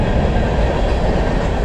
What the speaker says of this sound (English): And I do apologize about the trains.